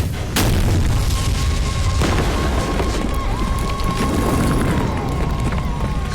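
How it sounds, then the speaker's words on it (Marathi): A cannonball fired during a siege of a fort, landing and striking just short of the fort wall, comes through as a heavy low boom over a continuous loud rumbling roar. "एक तोफगोळा तटाच्या अलीकडेच येऊन आदळला."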